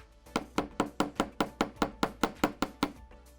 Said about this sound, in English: I'm going to give it a light hammer because I want it to be nice and solid and firm